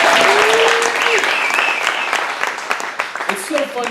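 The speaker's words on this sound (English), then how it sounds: "I think that's kind of something to clap for." Congregation at a new church launch in Nashville applauds loudly and steadily, a dense wash of clapping with scattered cheers and voices woven through it, fading slightly toward the end.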